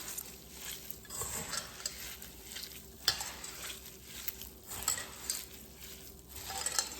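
Ghee-greased hands mix and press boondi for laddu, making soft, close rustling and squishing sounds in repeated waves. A brief sharp clink comes partway through, and no one speaks.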